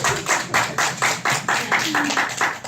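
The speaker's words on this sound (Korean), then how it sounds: "이분들한테 다시 한번 박수 부탁드리겠습니다." A small audience claps for presenters in a steady, evenly spaced rhythm of about a dozen crisp claps, moderately close, with a faint voice briefly underneath.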